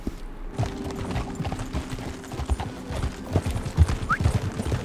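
Hooves of a horse in Red Dead Redemption 2 clip-clop in an uneven steady rhythm on the ground, close and moderately loud, with light background ambience and a brief high squeak near the end.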